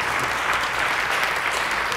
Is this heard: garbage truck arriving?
no